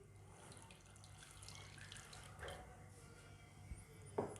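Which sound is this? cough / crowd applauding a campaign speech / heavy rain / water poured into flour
water poured into flour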